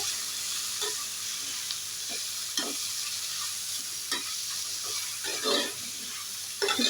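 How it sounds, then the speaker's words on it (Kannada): Bread toast mixture frying in a little oil in a pan, a constant crackling sizzle with scattered scraping stirs and a louder burst near the end. "ಸ್ವಲ್ಪ ಎಣ್ಣೆಯಲ್ಲಿ ಫ್ರೈ ಆಗಬೇಕಿದು"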